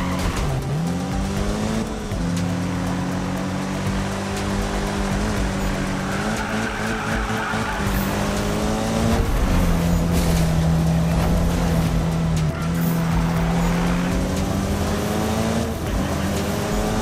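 A race car in the Need for Speed video game screams along at high speed, its engine note sliding up and down through gear changes as the tires skid and squeal, loud and continuous throughout.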